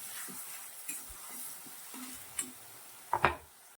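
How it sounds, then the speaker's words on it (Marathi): Tomato, coriander and garlic paste sautéing in a pan gives a low, soft sizzle under occasional spoon scrapes and a couple of sharper metallic clinks against the pan near the end, close by with no talk. "टमाटा कोथिंबीर लसणची पेस्ट आपल्याला टाकून घ्यायची आहे मस्त असं परतून घ्यायचं आहे"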